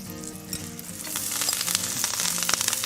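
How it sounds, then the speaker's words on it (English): Greens and garlic sautéing in unsalted butter in a pan give a steady crackling sizzle that builds slightly, with occasional stirring clicks and no talk. "I'm doing a quick saute on the greens and the garlic"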